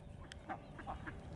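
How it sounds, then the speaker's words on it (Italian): A few ducks quacking in short, faint calls spread across a brief moment, somewhat distant. "Guarda che ci sono le papere!"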